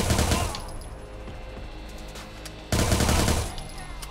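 Video game firefight with heavy automatic gunfire, loud sustained bursts at the start, a quieter stretch with distant shots, then another loud burst of rapid fire.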